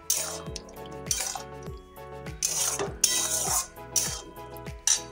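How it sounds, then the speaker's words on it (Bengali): A spoon stirs cornflour water and salt into chilli paneer in a metal pan, repeated clinking scrapes against the pan in an irregular rhythm, close and fairly clear, with no talking. "দিয়ে ভালো করে নেড়ে চেড়ে নিচ্ছি"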